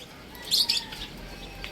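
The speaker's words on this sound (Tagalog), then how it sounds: "Aligo lang mga ibon dito." A short burst of bright pigeon chirps with flapping rises briefly above quiet background noise, then fades.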